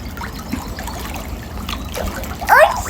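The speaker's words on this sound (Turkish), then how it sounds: "Ne güzel yüzüyorsun sen." A child swims and splashes in water on a holiday, with soft trickling and a brief louder splash near the end, while faint background murmur continues.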